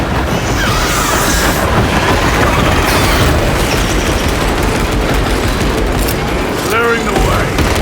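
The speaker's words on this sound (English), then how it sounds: "Tyranids bombarding the chains!" Tyranid bombardment pounds the battlefield in Space Marine 2, a dense, continuous roar of explosions and rapid gunfire with booming impacts throughout, loud and close, with voices shouting over the chaos.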